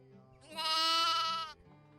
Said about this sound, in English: There's Swaledale ewes, black-faced ewes and mule ewes.